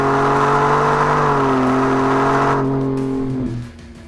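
A 2017 Ford Raptor with a V6 EcoBoost engine and aftermarket exhaust revs, holding a deep, steady droning tone that shifts slightly in pitch before dropping off sharply near the end.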